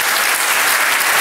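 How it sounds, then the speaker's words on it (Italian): Dense, even applause from a conference audience at a vending industry event, a steady wash of many hands clapping throughout the short moment. "Chiedo a tutti di fare un applauso soprattutto a loro"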